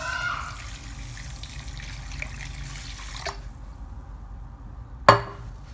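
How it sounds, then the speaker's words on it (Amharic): Clean water poured into a cooking pot, a gentle running splash that stops abruptly partway through, followed by near silence and a sharp knock. "ከዛ በኋላ ውሃ ጨምራለሁ። ንጹህ ውሃ እዚህ ጋር አቅርቤ ነው ያለሁት።"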